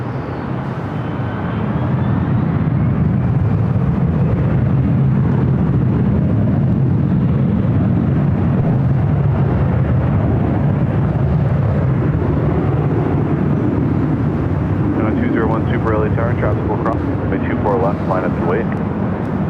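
An ITA Airways Airbus A330neo airliner arriving at LAX on the south side after a flight from Rome, heard as a steady, loud broadband jet roar with wind buffeting, joined near the end by faint background voices.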